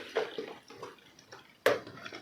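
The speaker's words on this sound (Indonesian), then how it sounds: "Dibuang dulu ya Bang airnya" Water drained from cooked food is poured off in a few short splashes and trickles, close but fairly quiet, with one sharper splash near the end and no talking.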